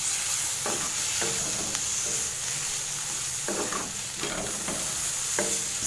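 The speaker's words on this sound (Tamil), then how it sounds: "இப்போ இது கூட தக்காளி சேர்க்கலாம்." Tomatoes fry in a pan for a dhal and are stirred at intervals. A steady sizzle is heard close up under scattered scraping strokes, with no talk.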